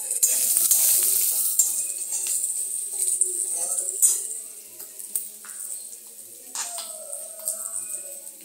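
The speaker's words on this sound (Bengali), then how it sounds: "দিয়ে দিলাম আলুগুলো, ভাজা আলু আছে সেগুলো দিয়ে দিলাম।" Pre-fried potatoes go into a pan over lightly fried onions for a home-style aloo paneer, giving a steady bright sizzle with scattered stirring clinks that eases slightly after the first few seconds.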